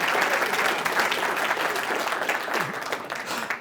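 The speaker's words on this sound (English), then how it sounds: "Give me a round of applause anyway, right?" An audience at a guest speaker's talk breaks into steady, dense applause that holds fairly loud throughout before easing slightly at the end.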